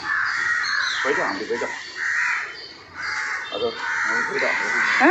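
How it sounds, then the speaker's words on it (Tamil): Loud, harsh cawing from several crows chasing a kite (a Brahminy kite, or rajali eagle), with repeated overlapping caws running almost continuously and near. "காக்கா பறந்துருவான். காக்கா திறத்துது."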